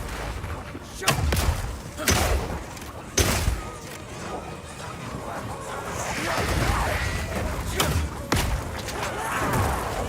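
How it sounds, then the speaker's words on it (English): Oil grenades fired in Path of Exile 2, several sharp launching thumps spaced a second or two apart over game effects, with a softer spreading splash sound in between. "Firing one of these grenades coats the ground and nearby enemies in oil"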